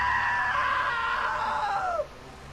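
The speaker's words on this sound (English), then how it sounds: "Now that was a great scream." A single loud, sustained scream from the video game What Remains of Edith Finch holds a high pitch for about two seconds, then bends downward and cuts off.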